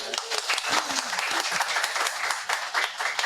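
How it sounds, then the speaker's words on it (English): An audience at a data and AI entrepreneurship talk gives loud, close, sustained applause, a dense steady wash of many hands clapping throughout. "First time that we have an applause like this"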